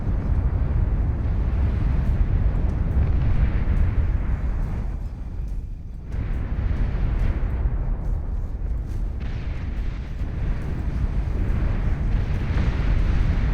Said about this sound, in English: There go the anti-nukes firing away.